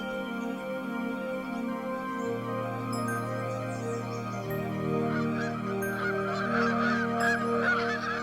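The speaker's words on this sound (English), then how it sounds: "The flyways become choked with birds on their way back to their summer homes in the north" A large flock of geese migrating north in spring honking continuously, many overlapping calls forming a dense, steady chorus that swells slightly louder toward the end.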